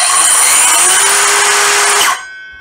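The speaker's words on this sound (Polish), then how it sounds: "I teraz jeszcze Wam pokażę, jak pilarka pracuje" A Metabo KS 18 LTX 57 cordless 18V circular saw runs unloaded with a loud, steady high whine after its soft start, then its brake cuts the blade off sharply after about two seconds, leaving a brief fading ring.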